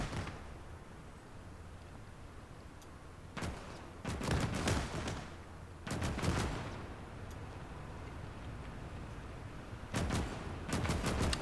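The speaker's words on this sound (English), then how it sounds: "Just a matter of time, I think, with those two machine gun emplacements." Machine gun fire in the Gates of Hell strategy game, with several short, loud rattling bursts at irregular intervals over a steady low background rumble.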